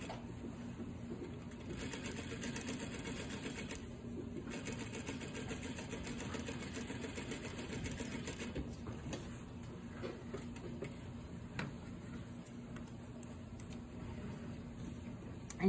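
Sewing machine running steadily as it sews an understitch close to the edge of a pant pocket seam, a close, continuous mechanical whir with a constant rhythm and no voices.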